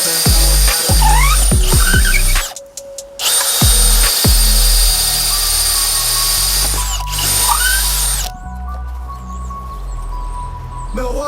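A power tool running on a Milwaukee Forge 8 amp hour battery with its gearbox in speed 2 whines loudly and steadily in bursts, with brief stops and restarts and a sustained high-pitched run at the end.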